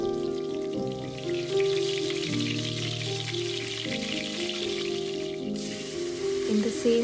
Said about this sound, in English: Here I am roughly frying stuffed brinjals.